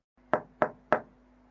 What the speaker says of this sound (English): and she knocked on the door.